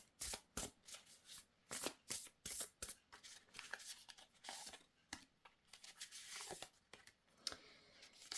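Oracle cards being shuffled and drawn by hand, with quick riffling and slapping bursts in an uneven rhythm, close and crisp against a quiet room.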